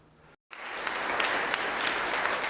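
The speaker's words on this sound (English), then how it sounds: "with applause from both sides of the aisle for returning and new members, like Democratic Senator Adrian Cortez" Legislators in the Washington state legislature chamber in Olympia break into sustained applause after a brief silence, a dense, steady wash of clapping from many hands filling the room.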